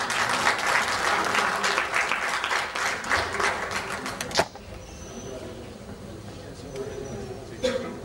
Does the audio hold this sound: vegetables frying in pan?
no